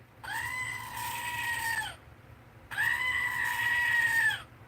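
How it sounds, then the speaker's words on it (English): A toy goat gives two long, loud bleats close by, each nearly two seconds long with a short pause between them. "You want to hear the goat?"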